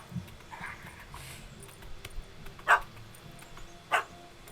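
Dog barking in The Witcher 3: Wild Hunt, a puppy that chased a cat up a tree: two short, clear barks about a second apart over quiet outdoor ambience with faint background sounds.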